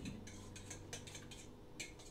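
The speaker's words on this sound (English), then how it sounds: "I'm going to stir it up really well." Utensil clinking and scraping against a bowl while olive oil is stirred into cream, a few light, quiet taps and clicks close by over soft background hiss.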